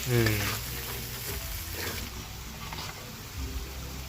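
Yogurt chicken curry with garlic, about 1.5 to 2 kilograms of meat in a full pan, sizzles steadily while being stirred and mixed, with a brief louder burst at the start.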